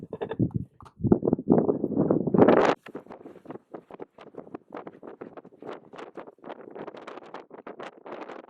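Gusty wind buffets the microphone atop a snowy, cold mountain lookout, with a loud roaring burst in the first few seconds that drops to lighter, fluttering gusts.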